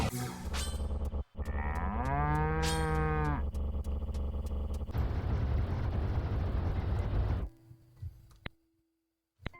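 A cow moos in a video game, a loud drawn-out bellow in the first few seconds, followed by a long burst of harsh noise and then quieter scattered game sounds.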